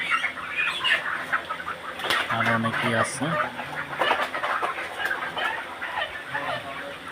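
Farm chickens cluck, squawk and beat their wings in bursts as they are caught at night for sale, the flock loud and close while people talk over the commotion.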